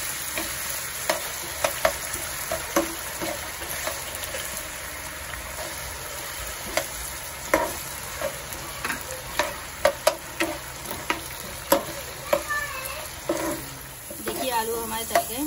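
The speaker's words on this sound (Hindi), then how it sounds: "इसको तल लेंगे आलू को" Potatoes frying in oil in a pan for an Afghani omelette, a continuous sizzle with repeated clinks and scrapes of a spoon stirring, close up, with a brief bubbling sputter near the end.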